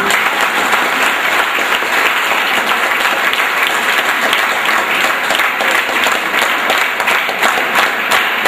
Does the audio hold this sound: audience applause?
yes